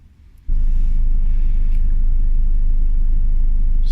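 A 2015 Audi TT S Line engine kicks in abruptly after a quiet half second, then holds a loud, steady low rumble while driving, close and continuous to the end.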